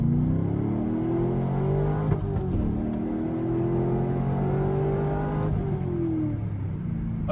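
A C5 Corvette engine straining through a 0-60 launch, its drone rising in pitch, sagging and bogging at moments before climbing again, heard steadily and fairly loud from inside the car with no talking.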